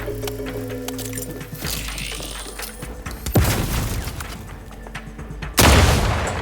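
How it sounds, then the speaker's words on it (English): In the sci-fi shooter game The Outer Worlds 2, mechanical clatter leads into a loud explosion, then rattling gunfire, then a second heavy blast near the end, all close and unbroken by speech. "Explosion imminent!"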